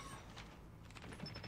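Dense bursts of rapid gunfire from an AGR 556 rifle in Call of Duty Mobile crackle through a busy, noisy mix, with a few sharper shots standing out near the end.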